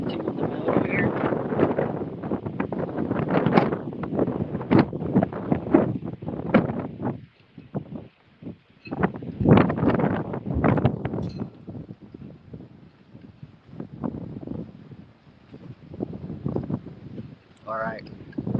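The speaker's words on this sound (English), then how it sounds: "So it's still very windy out here." Strong gusting wind buffets an outdoor microphone, roaring loudly in surges and dropping briefly around the middle before rising again, with light rain falling and a voice talking over it at times.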